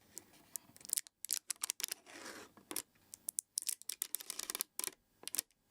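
Protective film being peeled off a Wingflex mini FCU, an Airbus A320 flight-sim panel cube: a series of quick, crisp crackling rips and tearing bursts, close and fairly quiet, separated by brief pauses.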